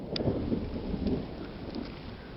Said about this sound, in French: le tonnerre n'arrête pas